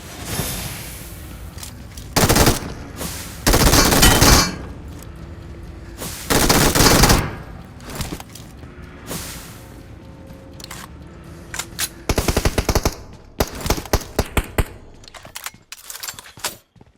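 PUBG Mobile gunfire in bursts: several loud automatic volleys separated by quieter stretches, followed by a rapid scatter of sharp single shots and short bursts near the end, with almost no talk.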